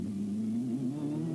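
Formula 3 race car engine heard on board at the 1999 Korean F3 International SuperPrix, a loud, steady high-revving drone that climbs slightly in pitch as the driver gets back on the power, with no talk over it.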